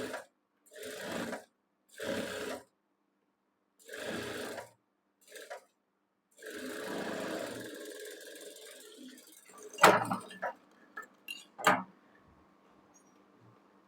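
A sewing machine runs in several separate bursts as it stitches a blouse sleeve seam, each steady mechanical whir lasting a second or two with short pauses between, ending in a few sharp clicks and taps.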